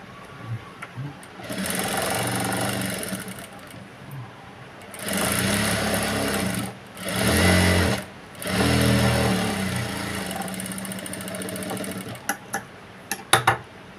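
A sewing machine stitches a cut-work design on a blouse in bursts of varied length, stopping and restarting with short pauses, loud and close, followed by a few faint clicks at the end.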